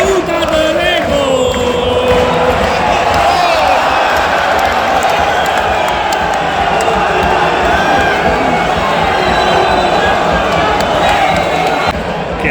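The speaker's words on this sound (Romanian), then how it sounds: "Lumea chiar strigă ironic să intre Cheșerul în teren." A Romanian football stadium crowd at an Arad match chants and shouts in unison, a loud continuous roar of massed voices with whistles, ironically calling for a substitute, sustained throughout at close, dense volume.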